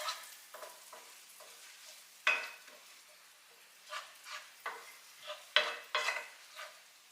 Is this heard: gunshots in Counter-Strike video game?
no